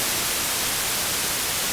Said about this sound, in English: We normally use noise as a sound source, so it would sound like this.